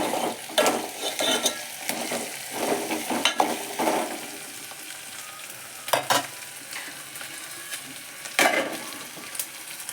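Ginger garlic paste fries in oil in a pan, a steady sizzle broken by repeated scraping strokes of a spoon stirring against the metal, heard up close with no talking.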